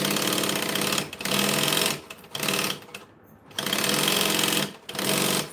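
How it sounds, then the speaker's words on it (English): A sewing machine speed sewing in fast steady bursts of rapid stitching, stopping briefly between runs, with a longer pause near the middle; loud and close, without talk. "Speed sewing always makes me feel better."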